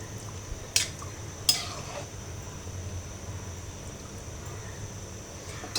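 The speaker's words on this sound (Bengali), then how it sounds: "একটা ঢাকনা দিয়ে দেব" A lid goes onto a cooking pot of beef with jackfruit seeds for kabab. Two faint, short metallic clinks sound close together over a quiet, steady kitchen hum, with no talking.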